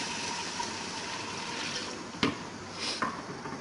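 Strained cooking water from black chickpeas is poured into a pan of chickpeas that have released their oil, making a steady, soft liquid rush with a couple of brief splashy bumps.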